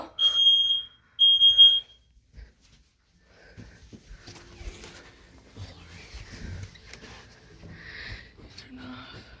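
A home smoke alarm sounds during a test: two loud, piercing beeps close by, then quiet room noise with a person talking faintly and handling things.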